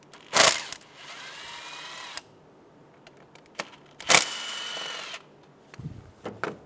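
A power drill spins a T40 bit to back out the coil pack bolts on a 2012-2020 Chevrolet Sonic engine, with two sustained whirring runs of about two seconds each, plus small clinks and handling noises, close and loud.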